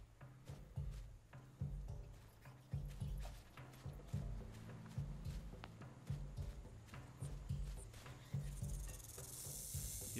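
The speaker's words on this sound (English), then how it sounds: "Yep, another fucking snake." A snake in the survival game Stranded Deep hisses over a busy bed of game sound, with repeated low thumping steps and rustles throughout and a rising hiss near the end.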